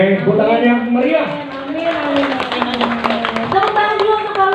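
Audience clapping at a Hard Rock Cafe show featuring a singer and Power Slaves, a steady patter of hand claps building in the second half, mixed under a voice talking and sustained tones.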